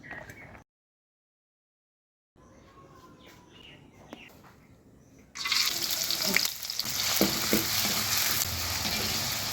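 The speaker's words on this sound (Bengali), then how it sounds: "একটু সময় নিয়ে নেড়ে নেড়ে এটা ভেজে নিতে হবে" Overnight-soaked chana dal frying over medium heat for spicy crunchy fried dal. Quiet room sounds with faint chirps come first, then a loud continuous sizzle starts partway through, with occasional stirring scrapes.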